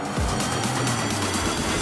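A car drives in the Fortnite video game: a short burst of engine noise that rises and then holds steady, close and fairly loud.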